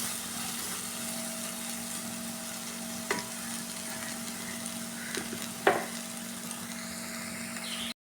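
Spice powders sautéing in oil with ground ginger for a mango pickle, a soft continuous sizzle under a low steady hum, with a few brief scraping clicks of stirring near the end.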